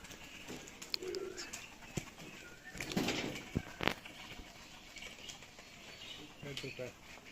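Racing pigeons are released at a tournament, giving soft coos and a brief burst of flapping wings mid-clip, faint and somewhat distant, with voices murmuring in the background.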